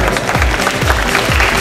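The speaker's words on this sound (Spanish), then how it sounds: "Fuerte el aplauso para las atletas." Dense, steady applause from a crowd at an IFBB bikini fitness competition, cheering the athletes, continuous and fairly loud throughout the short moment.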